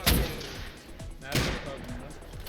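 Gunfire in the survival video game Rust, sharp loud bursts of shots with rumbling tails, close by, while a voice talks over the action.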